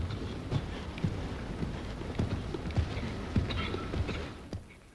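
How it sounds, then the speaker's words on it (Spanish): Dressage horse cantering through a flying change at a 1991 show-jumping and dressage event, with rhythmic muffled hoofbeats over soft footing and wind noise in the background. "Luego, Nicole cuadra a Remy preparándolo para el cambio volante de galope"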